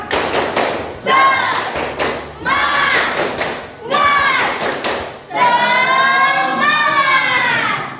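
Schoolchildren in an Indonesian classroom perform a rhythmic 'tepuk semangat' clapping cheer, with sharp claps and thumps alternating with loud chanted shouting in several bursts, the voices close and energetic.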